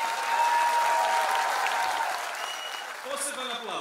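Audience applause at a concert by a folk dance and music ensemble marking its fifteenth anniversary: steady, full clapping that gradually thins and fades, with a brief tonal sound and a voice emerging at the close.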